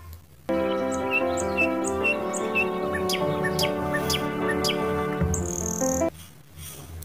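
Bright chirping and whistling calls of a parrot, repeated in a dense busy chorus with held tonal notes, fairly close and clear, no talking.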